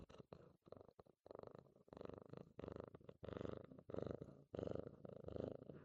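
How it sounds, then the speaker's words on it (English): A cat purrs close to the microphone in a steady rhythm of rumbling pulses, each breath cycle lasting under a second, soft overall and heard alone. "I want you to listen to my cat purring."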